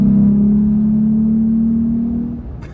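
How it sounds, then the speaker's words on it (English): Jeep Gladiator engine with an Air Raid cold air intake, a steady throaty drone held close and loud for over two seconds before easing off. "I'll give it a little bit of gas right here."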